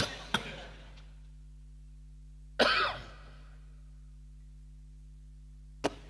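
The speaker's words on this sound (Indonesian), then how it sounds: "Kenapa cuma saya yang batuk?" A man coughs sharply three times during a mosque sermon, with long quiet gaps between the coughs over a steady low hum.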